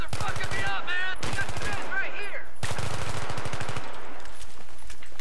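Rapid automatic gunfire in the video game Battlefield 3 rattles out in three close, loud bursts, with a faint voice between them.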